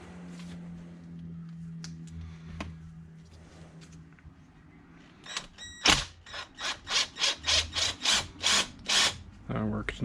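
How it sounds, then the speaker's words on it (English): A power drill whirs in a series of short, loud bursts close by, after quieter rubbing and handling sounds. "Dare I try the drill again?"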